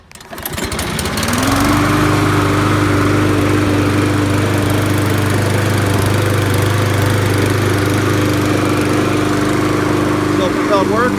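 Trash-picked Toro self-propelled lawn mower with no gas cap being started, a brief pull followed by the small engine catching and settling into a loud, steady running drone close by for several seconds.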